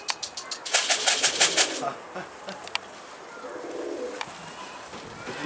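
Pigeons close by, with a quick burst of rapid wing flaps followed by scattered soft coos and light rustling.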